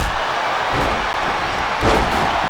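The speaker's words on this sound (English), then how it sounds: "Into a backdrop." Within a WWE 2K25 WarGames tag-team match inside a steel structure, a wrestler lands hard on the mat from a backdrop, a loud slam thud over constant crowd roar, with the noise swelling just after the impact.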